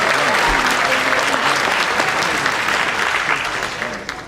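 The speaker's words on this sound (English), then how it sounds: "Let's give everyone one more round of applause." A graduation ceremony audience gives a loud, dense round of clapping that holds steady for several seconds before starting to thin out toward the end.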